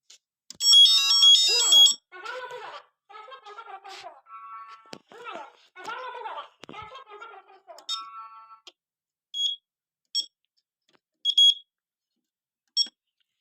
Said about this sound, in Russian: Срабатываем датчик дыма.